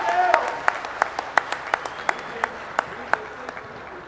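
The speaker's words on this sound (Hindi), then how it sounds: "एक बार दोनों हाथ उठाकर जोरदार तालियां बजाकर स्वागत।" An audience at a Hindi kavi sammelan poetry gathering claps to welcome a poet on stage. Sparse, evenly spaced claps ring out in a steady rhythm over a faint room hum, with no voices.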